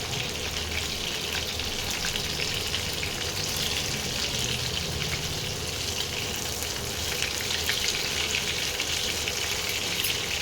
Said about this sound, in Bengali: এইভাবে মাছগুলোকে ভেজে নিতে হবে।